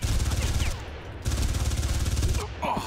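Sustained bursts of G36 assault rifle fire in the shooter Far Cry, a dense rapid rattle of loud close shots broken by a short pause, then a second long burst with a brief spoken sound near the end.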